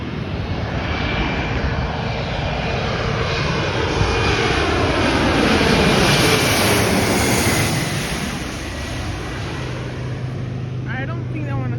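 Jet engine roar from an Airbus A321neo airliner at Los Angeles International Airport, a loud broad rumble that swells and holds for several seconds then eases slightly, steady and close, with no talk over it.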